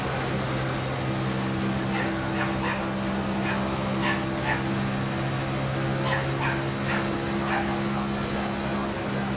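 A dog yips and whimpers in short faint bursts somewhere in the room, under a steady low hum from a racing-simulator setup.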